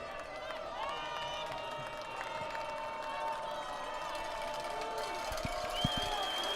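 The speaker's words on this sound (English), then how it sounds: "Crowd getting behind the Engineers here." A crowd at a college football game between RPI and Carnegie Mellon makes a steady distant roar of cheering and murmur, with whistles and faint shouts rising over it and a few thumps near the end.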